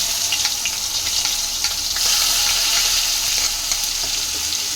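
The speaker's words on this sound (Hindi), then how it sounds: "अब इसमें डालूंगी मैंने ये एक प्याज काटा हुआ" Chopped onion fries in a hot pan with a pinch of asafoetida for khichdi, a steady close sizzle that runs unbroken and grows slightly louder midway, with no talk.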